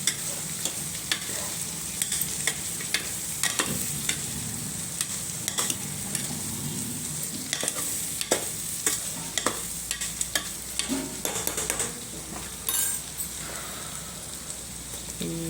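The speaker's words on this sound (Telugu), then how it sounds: "కలపాలండి, ఒక 2 సెకండ్స్ 3 సెకండ్స్ అట్లా." A spoon stirs cabbage dal in a hot pan, scraping and clicking again and again over a constant sizzle of frying.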